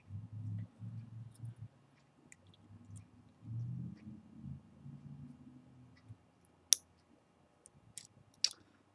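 Two crisp, faint snips ring out as coil lead wires are cut on a Kayfun 3.1 vape atomizer, following a stretch of low, muffled background rumble in a quiet room.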